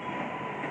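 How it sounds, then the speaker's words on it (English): A 7 train subway rumbles steadily nearby as it arrives, a continuous mechanical roar with a faint high squeal of wheels on rails. "But anyway, my train is here. My train is coming in."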